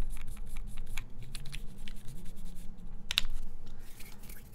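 Fingers type on a mechanical keyboard fitted with textured PBT keycaps, a fast, uneven patter of light clacks close to the microphone, with one sharper click near the end and no talking.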